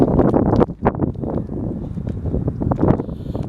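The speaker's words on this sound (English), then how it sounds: "It's real windy." Gusty wind buffets the microphone in low, uneven rumbling bursts that rise and fall throughout, close and fairly loud.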